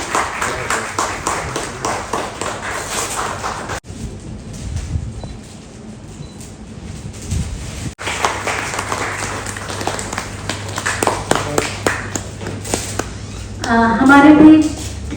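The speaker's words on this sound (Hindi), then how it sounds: "तालियों से उनका स्वागत करें।" An audience at a book launch at the Press Club of India applauds in bursts of dense, close clapping, broken by a quieter stretch of room noise, with voices and a brief whistling tone near the end.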